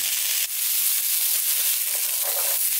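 Black beans frying in a hot pan give off a steady, loud hiss of sizzling that carries on without a break, with only a brief dip near the start.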